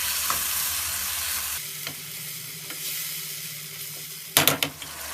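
Tomatoes and crushed chili fry in oil in a pan, softening as they cook; a steady sizzle with light stirring scrapes, quieter after the first second, then a short burst of louder clatter near the end.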